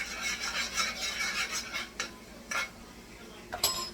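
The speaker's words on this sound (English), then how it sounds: "I'm going to give that a stir" Puerto Rican rice, arroz con gandules, being stirred in a pot, with a utensil scraping and clinking against the metal in several bursts at close range, quieting between strokes, no talking.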